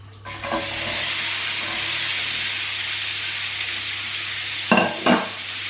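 Onions hit a hot pan and sizzle into a steady, loud frying hiss, with a couple of sharper clatters from stirring near the end.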